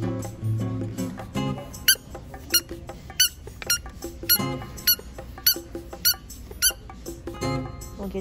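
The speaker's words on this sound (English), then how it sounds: "The same tennis balls that squeak." Squeaky tennis balls give a rapid run of sharp, loud squeaks, repeated in bursts about every half second, over a background of music.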